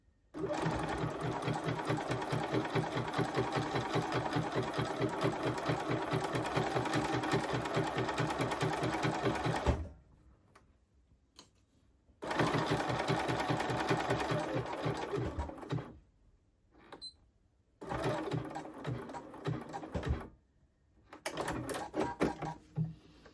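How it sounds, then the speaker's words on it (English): A sewing machine runs a zigzag stitch joining two overlapped pieces of a tailored blazer's under collar, stitching loudly in steady bursts of several seconds separated by short pauses, with no talking. "we're going to start stitching this now with a zigzag stitch and join these two pieces together"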